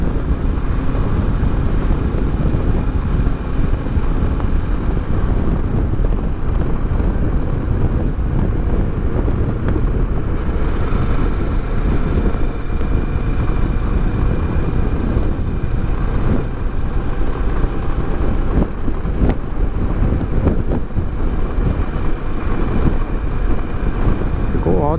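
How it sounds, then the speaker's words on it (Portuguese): Heavy, constant wind roars and buffets against the microphone of a rider on a 2018 Kawasaki Versys 650 motorcycle on a highway, a dense low rumble that never lets up, pushing sideways. "E o vento fica me empurrando de lado."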